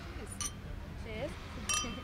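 Glasses clink together in a toast at a gathering in Cannes, a couple of bright, quick chinks sounding faintly over low background murmur.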